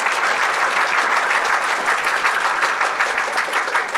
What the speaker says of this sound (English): Let's give everybody, both of them, a round of applause